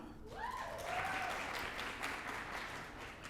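A dense wash of audience applause that holds steady throughout, with a brief rising whistle near the start.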